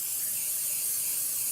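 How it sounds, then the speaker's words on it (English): Aerosol cooking spray hissing steadily onto the bottom and sides of marshmallow trays over a kitchen sink, a continuous close spray with no talk. "You can hear the spraying."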